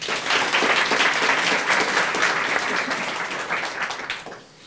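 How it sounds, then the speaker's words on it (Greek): Steady, dense applause from a studio audience in a Greek comedy show, loud and continuous for several seconds before tapering off at the end, with no one speaking over it. "Πάμε να δούμε ηχητικά εφέ με ένα χειροκρότημα."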